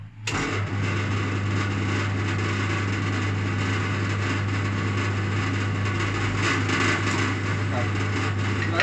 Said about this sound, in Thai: เจาะเจาะไปนิดเดียวเขาก็จะ ทะลุสองด้านแบบนี้